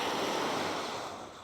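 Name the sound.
ocean waves on the beach at MSC Ocean Cay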